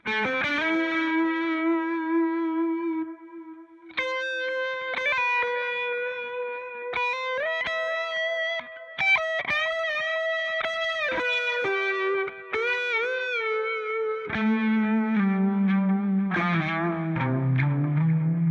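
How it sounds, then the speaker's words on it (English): Electric guitar notes and chords through a Spark 2 amp ring out with sweeping phaser modulation and echoing delay repeats, played alone with no voices. "it's really giving a delay to that phaser sound"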